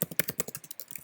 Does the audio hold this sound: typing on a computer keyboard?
yes